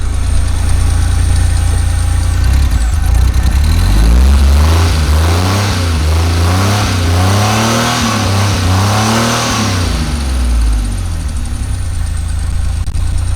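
A car engine turns over and runs steadily after being started, then revs up and down in repeated rising and falling sweeps through the middle before settling back to a loud, even idle.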